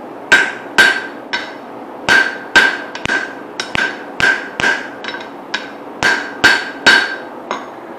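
Loud, sharp hammer blows strike a guillotine forging tool while a hammer head is being forged, about fifteen metallic ringing hits in uneven bursts over several seconds, close up with no talking.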